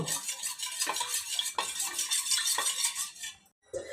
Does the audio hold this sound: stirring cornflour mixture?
yes